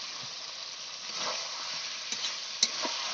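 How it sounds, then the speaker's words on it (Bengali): Chicken curry being stirred in a pan, a steady wet sizzle and hiss with a few soft scraping strokes of the spoon and one sharper clink near the end, close and fairly quiet. "নাড়িয়ে নিচ্ছি।"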